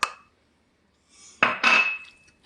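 A spoon stirs grated cheese into creamy mushroom risotto in a pan, giving a sharp clink at the start, then a pause and two louder bursts of scraping and clattering against the pan, close and with no talk.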